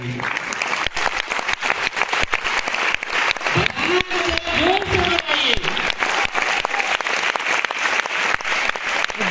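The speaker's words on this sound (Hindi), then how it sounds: "ताली बजाने में कंजूसी करते हैं" An audience at a meeting claps in sustained, dense applause, loud and close, continuing steadily for several seconds with a voice briefly heard under it.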